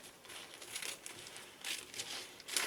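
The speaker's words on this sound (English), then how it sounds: "I've only got these scissors right here, so I'm just going to cut along this side" Scissors cutting along the side of a paper page while assembling an ephemera holder, a series of close, quiet crisp snips and crinkles coming in uneven bursts with short pauses between.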